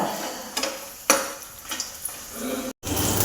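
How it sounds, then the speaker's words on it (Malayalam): Dried red chillies fry softly in a pan, a low steady sizzle broken by a few clinks and stirring scrapes, close and fairly quiet. "ഇതേണ്ട വറ്റലുമുളക് വറുത്തെടുക്കുന്നുണ്ട്"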